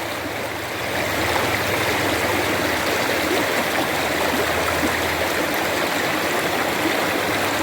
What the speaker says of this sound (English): This creek always provides.